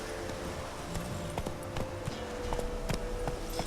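Horse hooves clip-clop steadily in The Witcher 3, a fairly close, even trot of distinct hoofbeats over a low game ambience with no talk.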